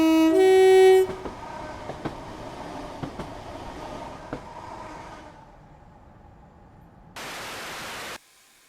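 Caledonian Railway 1 class steam locomotive in Train Simulator: a loud whistle opens, then a steady rolling hum of the engine on the rails with faint rhythmic clanks, fading down before a closing burst of hiss.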